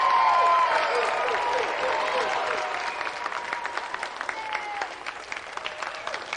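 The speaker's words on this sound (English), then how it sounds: "So let's have another round of applause for Carl Lewis, Colin Jackson, Linford Chris" Steady, fairly loud TV game show studio audience applause with scattered cheers; the clapping thins slightly toward the end.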